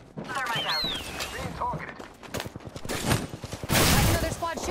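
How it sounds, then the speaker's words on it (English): Gunfire in the Apex Legends video game: repeated sharp shots and bursts run through the clip, growing louder toward the end, mixed with game effects and voices talking over them. "Shooting at us."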